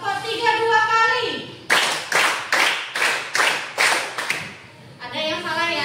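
Schoolchildren in a classroom clap a three-beat pattern twice on command, a string of crisp, evenly spaced group claps, framed by a teacher speaking before and after.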